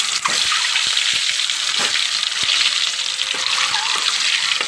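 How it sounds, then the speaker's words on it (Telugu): Eggs coated in turmeric and dried anchovies fry steadily in hot oil, a dense continuous sizzle with scattered crackles and light pops, close and loud throughout. "ఎండి నెత్తళ్ళు వేసి వేపుతున్నానండి"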